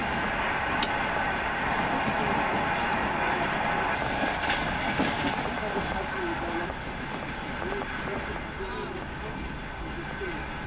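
A sleeper train running south from Tashkent toward Samarkand in Uzbekistan gives a constant loud rumble and rattle of wheels on track, with a faint intermittent squeal throughout.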